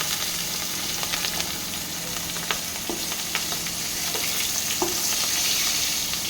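Pieces of catla fish belly frying in hot oil in a pan, a dense, continuous close sizzle with occasional small pops and light clinks, and no talking.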